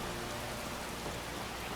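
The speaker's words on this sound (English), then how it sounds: "Get out of the rain a bit." Steady, dense rain pours down in a Skyrim game world, a continuous close hiss of drops hitting surfaces with no breaks or other sounds.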